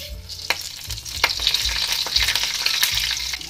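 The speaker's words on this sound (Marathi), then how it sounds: "खडे मसाले भाजून घेऊया।" Whole spices, including star anise, cinnamon pieces, black peppercorns, cloves and coriander seeds, dry-roasting in a pan for palak kofta gravy, giving a steady close crackling sizzle with light scraping stirs and no talk.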